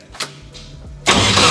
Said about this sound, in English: Timing's off. That's why it's backfiring.